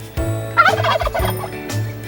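A turkey gobble sound effect plays as a loud, rapid warbling burst lasting about a second, set against a steady low hum, with no talking.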